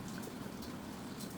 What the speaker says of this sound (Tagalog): Grabe ang ulan, tuloy-tuloy pa rin.